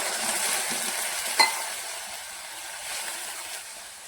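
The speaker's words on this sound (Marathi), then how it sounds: "बघा हे फ्राय झाल्यानंतर एक छोटासा ग्लास भरून दूध ओतून घेऊया" Milk poured over fried wheat in a pan gives a steady, airy sizzle with one sharp clink partway through, and the hiss slowly softens toward the end.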